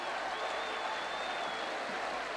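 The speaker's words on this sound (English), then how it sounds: "And the easy shout of the crowd" A steady wash of crowd noise fills a rugby league ground during Leeds v St Helens in 1990, with broad cheering and applause holding at an even level throughout and no voice rising above it.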